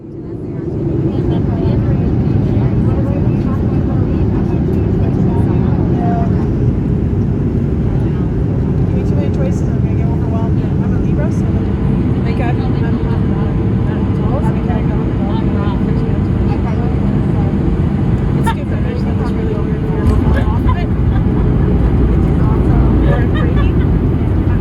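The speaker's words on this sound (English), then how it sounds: "here's our arrival into Yellowknife, landing on runway 34" Air North airliner landing at Yellowknife on runway 34, a steady loud low cabin roar of engines and airflow running unbroken throughout, with faint voices in the cabin beneath it.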